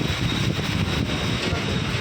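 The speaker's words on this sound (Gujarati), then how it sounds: "ઓહો પવન સુસવાટા બોલાવે હો ભાઈ, પવન જોરદાર પવન છે" Strong wind blowing hard past the microphone on a stormy day in Bhavnagar, a dense, buffeting roar that fills the two seconds without a break, no voices.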